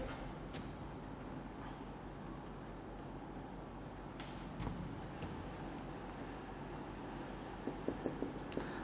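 A definition is written out by hand during a Class 11 mathematics lesson on set theory. The writing strokes are faint and scratchy, sitting under a steady hum of room and background noise.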